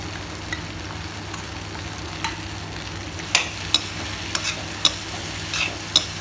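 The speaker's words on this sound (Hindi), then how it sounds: "ये बढ़िया से भून लेंगे संगवारी बन।" A spice paste for greens frying in a pan, with a steady close sizzle, faint crackles and several sharp stirring clinks, no talk, over a low background hum.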